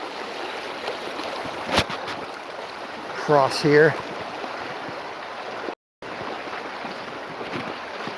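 Shallow creek water a couple of inches deep running strongly over a riffle, a steady hissing wash throughout, close to the microphone, with a short spoken phrase midway and a brief dropout near the end.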